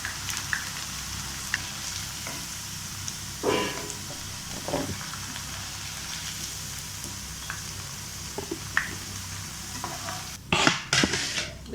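Cauliflower pieces fry in hot oil with a continuous bubbling sizzle, marked by scattered pops and a louder crackling flare near the end. No voices.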